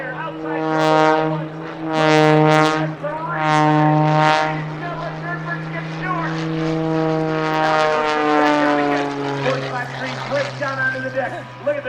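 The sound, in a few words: modified Pitts aerobatic plane propeller engine at air show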